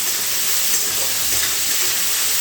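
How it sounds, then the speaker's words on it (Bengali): Chopped onion, garlic and ginger fry together in a pan, giving an even, loud hiss of sizzling oil that holds steady from start to finish. "এবার সব কিছু মিশিয়ে এই পেঁয়াজ আদা রসুন ভালো করে ভেজে নিতে হবে।"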